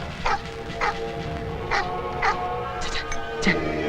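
A dog barks repeatedly in sharp, evenly spaced yelps at mid distance, over steady background hum and faint murmur.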